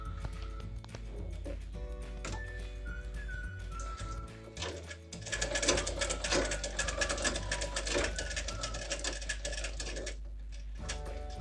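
Sewing machine stitching the puffed sleeves of a small girl's top, running in a fast, steady mechanical rattle with brief pauses, close and loud with no talking.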